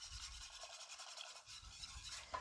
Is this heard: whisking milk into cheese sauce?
yes